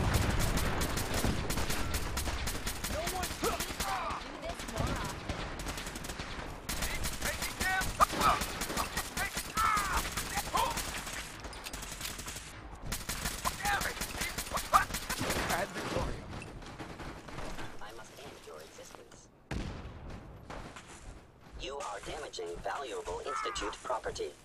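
Gauss rifle fire in Fallout 4 during an assault on Bunker Hill, with rapid loud bursts of shots in long volleys broken by short pauses, alongside game chatter and voices.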